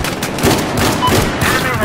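Rapid gunfire in a Battlefield 4 match, likely from an M1014 shotgun aimed at an LAV. Loud shots crackle in quick bursts over dense battlefield noise for under two seconds.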